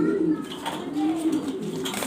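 German Beauty Homer pigeons of Andalusian colour coo in a low, rolling murmur, a few soft calls close by with no talk over them.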